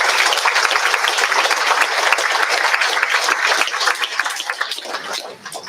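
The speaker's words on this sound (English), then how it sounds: "Can we give them all a round of applause?" Sustained audience applause at a school learning center graduation ceremony, dense clapping from a crowd holding steady before gradually thinning out near the end.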